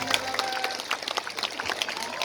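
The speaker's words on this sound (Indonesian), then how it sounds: "Tepuk tangan untuk beliaunya" Crowd applause at an outdoor field gathering in Madiun for Gus Miftah, a dense steady patter of many hands, fairly loud and continuous, with faint voices mixed in.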